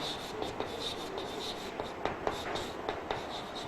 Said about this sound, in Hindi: मैं इधर केस 1 लिखता हूं